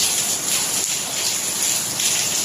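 Heavy rain in Dubai pours in a dense, steady hiss of falling water, loud and close, with no other sounds standing out.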